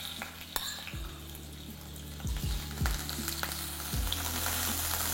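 Shrimp hit hot mustard oil in a frying pan, setting off a steady close sizzle broken by several sharp clinks and scrapes of a utensil against the pan.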